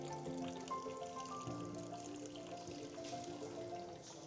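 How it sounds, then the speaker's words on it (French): Water flows gently in a mosaic fountain driven by a recirculating pump, a faint continuous trickle heard beneath background music. "Ici, une pompe à l'intérieur qui fait un circuit de l'eau fermé."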